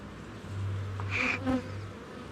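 Honeybees buzz inside a hive's top section during an inspection in a nectar flow, a steady close drone with a brief louder whine as a bee passes near.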